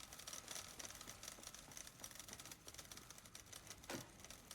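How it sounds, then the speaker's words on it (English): Dense clacking of several typewriters in the video game Alan Wake 2, a continuous rapid rattle of key strikes that goes on without a break, fairly faint overall, with no talk. "And not at all overstimulated by the fucking sound of the typewriters."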